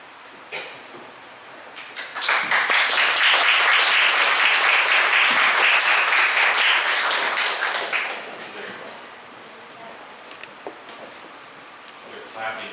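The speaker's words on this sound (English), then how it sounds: "They're clapping because you're coming up." At a museum talk, scattered claps swell into about six seconds of full audience applause, then taper off into quiet room noise with a few stray taps and coughs.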